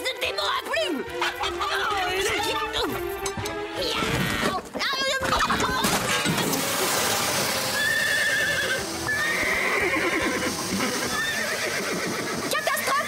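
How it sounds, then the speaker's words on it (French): Cartoon horses on a ranch whinnying shrilly several times amid a commotion, with clip-clopping hooves, a crash and thwacks, while characters shout over the noise. "Marie et Rosa, aidez-moi à calmer les chevaux!"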